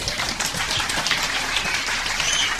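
An audience at an Islamic dialogue event applauds for Buya Rozi with loud, dense, steady clapping that fills the whole moment without a break.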